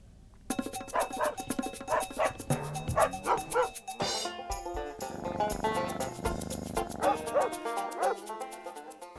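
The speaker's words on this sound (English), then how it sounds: "Jasmine is the sweetest little dog" A small, shy dog barks and yips in quick, high repeated bursts, close and fairly loud, with a few whimpering notes between.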